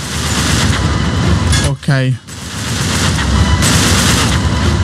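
Gunfire in the video game Uncharted 3 on a ship in rough water: steady loud shooting and booming throughout, briefly broken by a short voice, with a player speaking over it.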